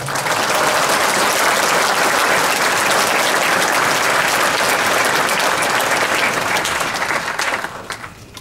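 A large audience at a Law and Justice party convention in Bielsko-Biała applauds vigorously, a loud, unbroken roar of clapping that holds for several seconds before tapering off near the end.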